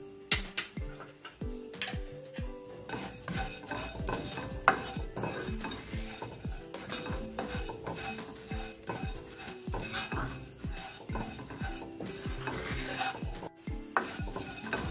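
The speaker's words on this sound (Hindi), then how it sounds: "चार मगज को भी हल्का सा भून लेंगे ताकि ये भी क्रिस्पी हो जाए।" Char magaz melon seeds dry-roasting in a pan for a sweet fennel mouth freshener, with a spatula stirring and scraping steadily in close, continuous rhythmic strokes for the whole stretch.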